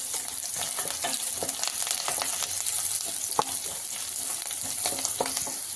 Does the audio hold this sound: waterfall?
no